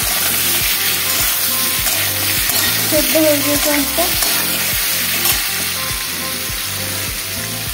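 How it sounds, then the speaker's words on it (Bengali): Mixed vegetables with pointed gourd fry loudly in a pan while a spatula stirs in a steady repeating rhythm over constant close sizzling; a voice speaks briefly over the cooking. "আমার এদিকে সবজিগুলো প্রায় ভাজা হয়ে এসছে"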